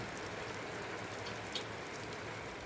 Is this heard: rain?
yes